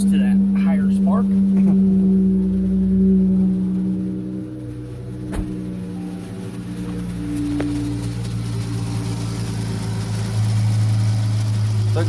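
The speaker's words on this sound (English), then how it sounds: "I'll let her idle for a little bit." A Dodge Challenger's Pentastar V6 with newly installed coil packs idles steadily, a low, even engine hum holding close and constant throughout.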